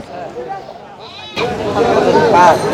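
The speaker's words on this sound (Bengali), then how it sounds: "এটা কি জাতের খাসি দেশি ব্ল্যাক বেঙ্গল" Black Bengal goats bleating at a busy livestock market, several close, wavering cries in quick succession over a steady murmur of crowd chatter.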